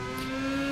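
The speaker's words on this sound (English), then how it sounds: "you can hear the engines in the background" Race car engines in the rFactor 2 racing simulation, a steady tonal whine with a clear rising pitch, holding level and fairly loud through a very short moment with no talk.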